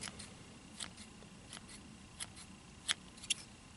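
Small scissors trim material on a Bunny Boy fly-tying streamer, giving a few faint, crisp snips spaced irregularly in a quiet room, the last two slightly sharper, with no talk.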